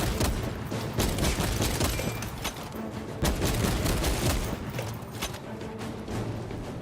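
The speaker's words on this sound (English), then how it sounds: "What's shooting at me?" Continuous gunfire in the video game Space Marine 2, with rapid overlapping shots and heavy impacts forming a dense, loud barrage across the whole stretch and no talk.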